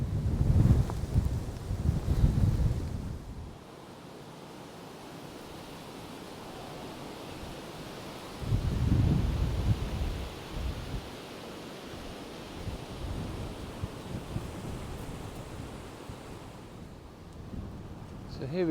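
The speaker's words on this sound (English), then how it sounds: "As you can hear, the wind's picked up" Strong Storm Bert wind roaring across an open UK nature reserve, buffeting the microphone in heavy gusts at the start and again midway, with a steady rushing lull between them.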